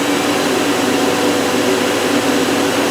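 The main spindle of a 2008 Hyundai Kia SKT-250LMS CNC lathe spins at 500 RPM, giving a loud, steady whirring hum at close range with no voices.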